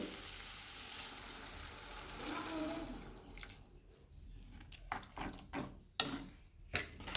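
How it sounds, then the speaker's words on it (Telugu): Water poured into a sizzling egg and drumstick curry in a pan: a loud broadband hiss fades into quieter bubbling, broken by a few sharp clinks and knocks near the end, no voices. "ఇప్పుడు వాటర్ వేసుకుందామండి"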